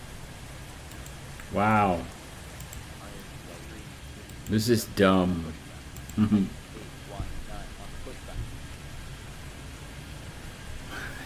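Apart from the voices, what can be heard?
rain and thunder in Airport Madness 3D video game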